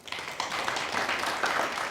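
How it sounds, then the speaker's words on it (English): An audience at a humanitarian engineering networking event in a hotel gives a round of applause to welcome the panelists, a continuous patter of many hands clapping throughout. "welcome our panelists with a round of applause"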